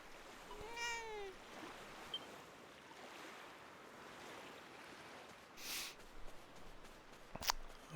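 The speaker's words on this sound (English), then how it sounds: "Hey, kitty." A cat meows in the Dragon Quest VII Reimagined video game, a short rising-and-falling call near the start set against a steady wash of ambient game sound, with a couple of brief clicks later.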